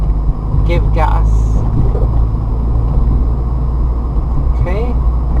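A manual car's engine drones low and steady from inside the cabin as the driver shifts up through the gears, a constant rumble with a voice speaking over it.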